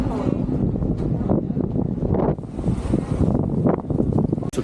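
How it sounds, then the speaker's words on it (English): Sea water off Mykonos, Greece, splashing and rushing against a moving boat, loud surging washes mixed with strong wind buffeting the microphone. "And of course we got the water splashing right in."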